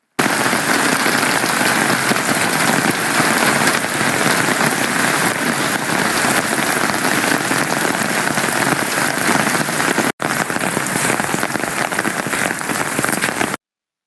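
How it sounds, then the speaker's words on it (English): Heavy rain in Adana, Türkiye, turning to hail, pours down steadily, a dense, continuous hiss of drops drumming on surfaces, loud and close, with a brief dropout near the end. "Heavy rain in Adana suddenly turned into hail"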